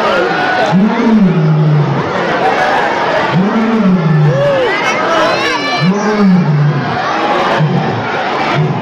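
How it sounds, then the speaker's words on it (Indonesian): A white lion roars during a zoo keeper presentation, with several deep, rising-and-falling roars spaced a few seconds apart over steady crowd chatter from nearby visitors. "Ketika singa berkomunikasi salah satunya dengan cara mengeluarkan auman ataupun suara"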